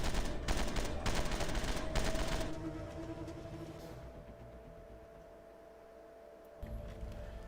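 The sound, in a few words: explosions and gunfire in VR zombie shooter game Death Horizon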